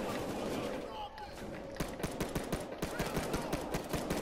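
Hip-fired guns in a video game heist crackle in fast, dense bursts of automatic shots over a loud, busy background of game noise and a speaking voice.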